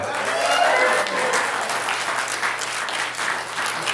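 Applause and cheering from a cinema audience at the Joy Cinema, steady broadband clapping sustained for about four seconds with some whoops early on and no one speaking.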